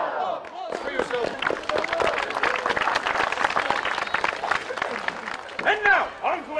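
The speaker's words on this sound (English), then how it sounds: "Applause for yourself." A stage-show audience breaks into applause, with loud, dense clapping and some crowd noise building after a brief voice, then tapering near the end as speech returns.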